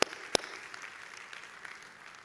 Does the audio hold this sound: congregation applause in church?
yes